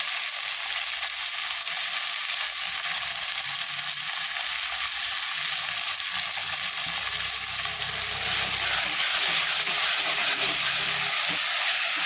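Tomatoes sauté in an oiled pan for an old-style prawn curry with mixed vegetables, giving a steady close sizzle and hiss throughout, occasionally stirred, with no talking.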